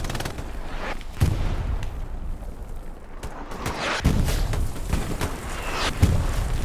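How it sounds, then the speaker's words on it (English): A World War II battle in Hell Let Loose, with artillery impacts and gunfire as repeated booming blasts and crackling shots over a constant rumble of combat noise. "Artillery coming in, taking shots"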